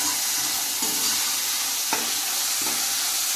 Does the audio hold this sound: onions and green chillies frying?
yes